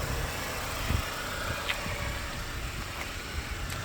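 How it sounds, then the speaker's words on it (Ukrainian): A 2010 Renault Megane's 1.6-litre petrol engine idles steadily, a smooth continuous mid-pitched hum with faint vibration and no other sounds. "Чисто двигун працює."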